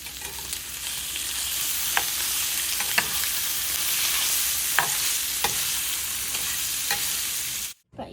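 Smoked sausage fries in oil in a pan with a loud, steady sizzle and occasional sharp clicks as the pieces are turned.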